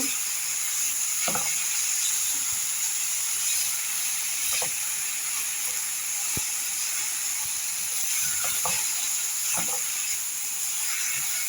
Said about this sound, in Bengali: কাঁচামরিচ দেওয়ার পরে ভালো করে নেড়ে দিচ্ছি আর পাট শাক দিয়ে দিচ্ছি